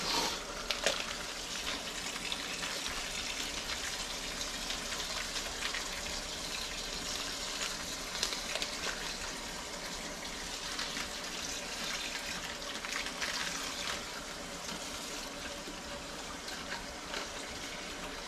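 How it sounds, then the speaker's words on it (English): Ice-cold water runs from a tap over whole chickens being rinsed, a continuous, steady gush and splash that stays even the whole way through. "Remember, nice massage, nice rinse, clean them out inside good, ice cold water."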